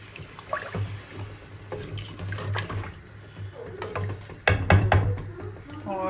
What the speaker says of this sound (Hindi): अब हम इसके अंदर 8 कप पानी डाल देंगे